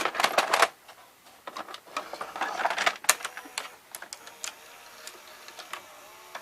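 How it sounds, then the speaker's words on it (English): A tape being pushed into a Fisher FVH-4000 VCR whose belt is sticking, giving a run of close, sharp mechanical clicks and clatters with brief gaps, loudest at the start and thinning to scattered ticks. "So now I'm gonna insert a tape."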